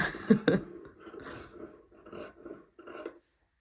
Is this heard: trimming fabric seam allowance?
yes